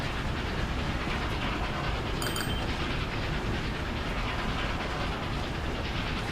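A train running on rails in the video game Train Fever, a continuous loud rolling rumble and hiss of wheels on track, with a brief high metallic squeal near the start.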